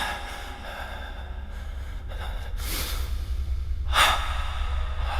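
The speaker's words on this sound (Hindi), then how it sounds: "थोड़ी देर बाद उसे किसी के सांस लेने की आवाज़" Slow, close breathing acts as a sound effect in a horror story, with a few audible breaths and gasps rising out of a low, quiet background.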